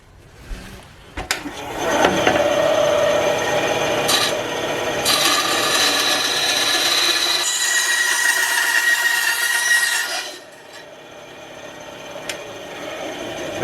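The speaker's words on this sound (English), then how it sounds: "we're going to set up the bandsaw" A bandsaw cuts through material for a saw-blade baseball bat build, a steady close rasping, grinding whine running for about eight seconds before dropping away to a quieter hum.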